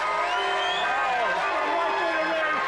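A studio audience at a television comedy show cheers and whoops loudly and continuously, a dense crowd roar with shouting voices rising above it throughout.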